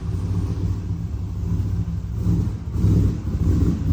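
A turbocharged 6-litre car engine, first fired and running slightly rich, rumbles steadily at idle, a low, continuous drone that swells slightly toward the end, with no voices.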